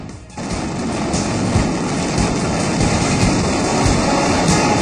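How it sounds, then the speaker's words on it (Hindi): Firecrackers bursting in a dense, continuous barrage after a fire breaks out, loud and close, a roaring crackle of overlapping blasts with no pauses, starting abruptly after a brief lull. "पटाखे ऐसे फूटे कि कैमरामैन भी गिर पड़ा।"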